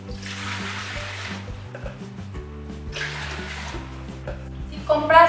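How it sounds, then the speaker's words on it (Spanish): Two litres of water poured into a cooking pot in a kitchen, in two bursts of rushing, splashing pour, each about a second long, heard close under steady background music. "vamos a poner aquí los 2 litros de agua."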